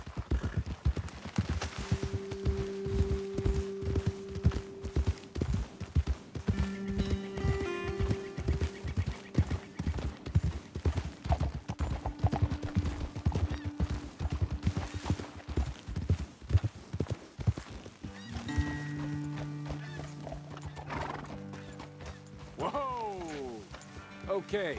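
Horse hooves clip-clop steadily at a walking pace in Red Dead Redemption 2, with a horse whinnying and people talking over the hoofbeats.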